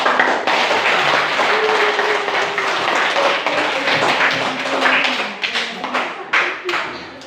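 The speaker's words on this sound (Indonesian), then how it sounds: "coba kita berikan aplaus untuk kalian" Classroom applause for a group of students after their presentation, a dense burst of many hands clapping together that holds steady for several seconds, then thins into scattered claps and fades out.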